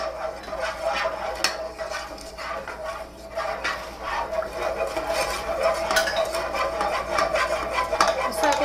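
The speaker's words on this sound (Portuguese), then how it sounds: "Vamos mexendo, deixa sem parar. Tô mexendo, tô mexendo." A creamy, cornstarch-thickened sauce is stirred continuously in a pan for a chicken sandwich-bread dish. Steady scraping and swirling strokes sound close, with a faint low hum beneath and no clear talking.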